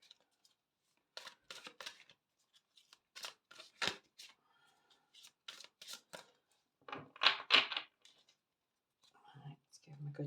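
Oracle cards shuffled by hand in quick crisp bursts of riffling and slapping, close and quiet, with short pauses between bursts and a soft voice speaking near the end.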